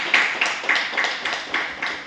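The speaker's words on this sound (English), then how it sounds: "let's applause for the Toastmaster Nirmal Thapa for his first speech" Clapping at a Toastmasters meeting after a first speech: about eight sharp, evenly spaced claps, close and moderately loud, sounding more like a few hands than a full crowd.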